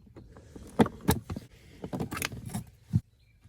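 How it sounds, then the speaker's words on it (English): A plastic interior trim panel being pried off inside a 2004 Honda Odyssey: a close run of irregular clicks, snaps and rustling knocks, a few sharper pops, then near quiet, with no talking. "Let's pull this plastic panel off, see if that gets us the room that we need to get."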